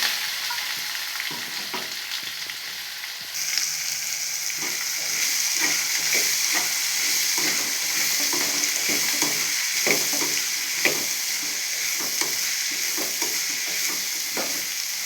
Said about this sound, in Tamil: வெங்காயத்தை நல்லா வதக்கிக்கிடலாம் வெங்காயத்தை நல்லா சுருளை வதக்கிக்கிட்டு